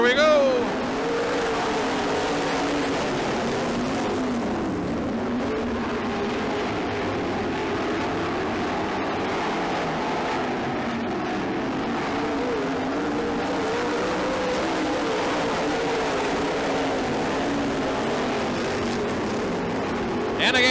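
Sprint cars race around a dirt oval in a Midwest Sprint Car Association event, their engines a steady, loud, continuous roar throughout with a commentator talking over it.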